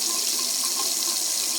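Tap water pouring steadily from a faucet fitted with an LED shower gadget, a dense, even hiss of running water close by with no talking.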